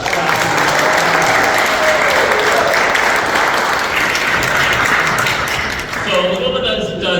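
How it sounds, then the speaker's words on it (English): Audience applause at a Lego building event in Solvang, California, a loud, steady crowd clapping that runs for several seconds and thins near the end, with some voices mixed in. "A round of applause there."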